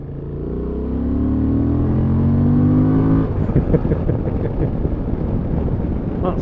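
A 2023 Honda XL750 Transalp motorcycle accelerating hard with the throttle wound open, its engine note climbing steadily in pitch before a gear change, then wind rush and engine roar at speed, loud and close.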